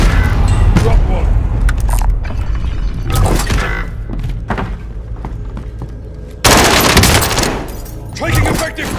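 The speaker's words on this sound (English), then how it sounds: "Taking effective fire. Assault rifle here." Assault rifle fire in Call of Duty: Warzone on Rebirth Island, loud bursts and rapid volleys with mechanical clacks between them, the densest burst coming late.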